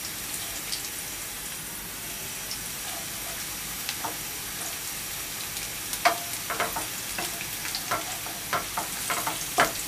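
Panch phoron, the Bengali five-spice mix, sizzles in oil with lightly browned onion in a pan, a steady close hiss that grows busier with sharp popping crackles toward the end.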